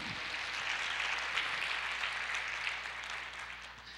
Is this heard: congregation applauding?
yes